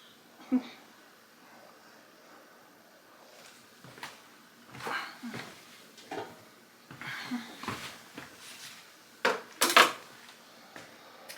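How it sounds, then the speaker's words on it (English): Small one-cup glass jelly jars are handled and set down during home canning of BBQ sauce, giving sparse clinks and knocks with quiet kitchen movement between, close and moderately loud. "I'm putting these in small jars, so it would be like for a meal or so. These are like 1 cup jelly jars."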